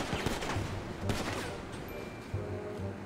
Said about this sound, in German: Wen schießt denn der da? Keine Ahnung, auf irgendwen will er wohl schießen.